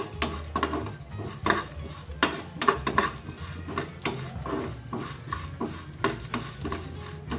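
A spoon scrapes and clatters in a dry pan as tamarind and urad, moong and chana dal are fried without oil, with irregular repeated metallic strikes and a low hiss underneath.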